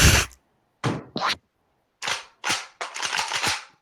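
Several sharp, punchy video game gunshot bursts in Roblox in quick succession with short silences between, ending in a rapid cluster of shots.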